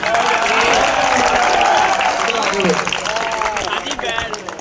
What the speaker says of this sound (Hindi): इसके लिए तालियां होनी चाहिए